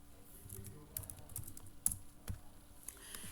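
Keystrokes on a computer keyboard while C++ code is typed, a quiet, irregular run of light clicks spread across a few seconds with no talking.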